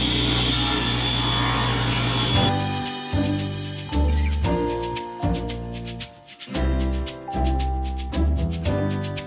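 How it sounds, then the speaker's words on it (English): Saw strokes cut through cedar deck boards about 1 inch thick and 5.5 inches wide, a dense rasping burst near the start before background music takes over. "I'm gonna split them and cut them to the right dimensions as my bench."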